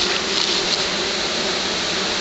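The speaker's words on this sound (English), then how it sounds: "So this will be a good swarm right here." A dense honey bee swarm hums steadily in a home yard, a continuous close, loud buzzing drone with no voices.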